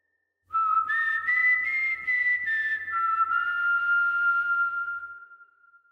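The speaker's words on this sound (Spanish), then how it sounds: "comenzó a escuchar unos silbidos cerca de él" A clear, sustained whistled tone that wavers and slides between pitches, sounding alone and then fading out at the end.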